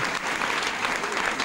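Audience applause, dense continuous clapping from a crowd, steady and fairly loud throughout the short moment.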